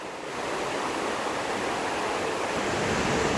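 La Fortuna waterfall roars in a constant, dense rush of falling water, loud and unbroken throughout, with no voices.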